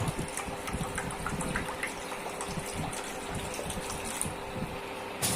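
Water pours into a heated kadai with a continuous, fairly loud gushing splash that stays steady throughout, with no talking.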